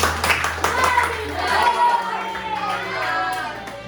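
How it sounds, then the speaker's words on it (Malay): A classroom of students gives a short round of clapping for a classmate, lasting a few seconds at moderate loudness, with a teacher's voice talking over it. "Bagi tepukan untuk Amin."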